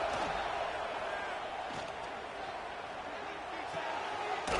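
A stadium crowd at a football game keeps up a steady, loud roar with sharper swells, heard at a distance with muffled voices under the noise.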